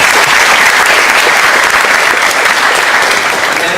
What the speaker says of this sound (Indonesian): Tepuk tangan dulu buat kami.